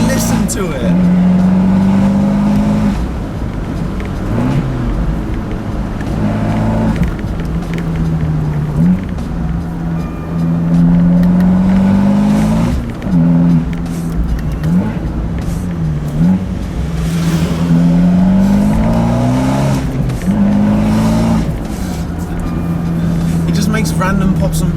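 An Abarth 124 Spider's exhaust revs and drops repeatedly at city speeds, a loud, raspy drone rising and falling in pitch with scattered pops, heard close under an ongoing voice.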